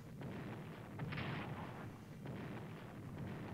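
Battleship bombardment in the strategy game Strategic Command: World at War, a rumbling wash of booming artillery blasts and explosions, dense and continuous at a quiet level.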